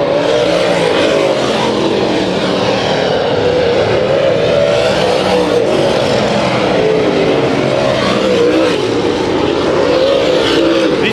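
Late model race cars roar around Kings Speedway in a heat race, a loud and continuous wall of engine noise as the pack charges past with no break.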